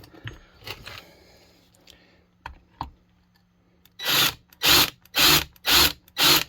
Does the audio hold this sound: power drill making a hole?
yes